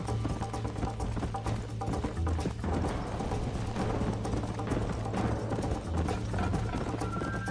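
Horse hooves galloping in Red Dead Redemption, a steady run of hoofbeats over a low droning game backdrop with faint mechanical clatter, fairly quiet and without talk.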